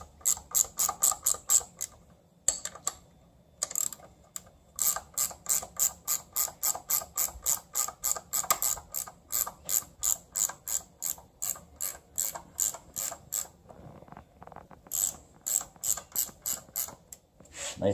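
A hand ratchet tightens the left-hand-thread belt tensioner bolt on a Miata V6 engine's accessory belt drive, with rapid, crisp, close clicking in repeated bursts separated by brief pauses.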